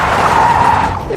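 Rally-bred all-wheel-drive Toyota GR Corolla or GR Yaris sliding sideways on a race track, a loud, steady tire squeal and skid holding for about a second, engine drone underneath.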